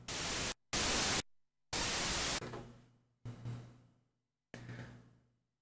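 Bursts of hissing white noise from a Waldorf Blofeld synthesizer's noise oscillator switch on and off abruptly, the later ones darker and filtered with a low hum beneath, separated by silences.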